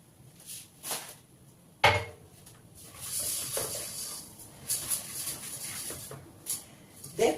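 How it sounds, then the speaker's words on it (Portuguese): Risotto rice stirred in a pan, making scraping, clattering strokes at an uneven rhythm, close and fairly quiet with no talk over it. "Tem que mexer bastante para soltar o amido."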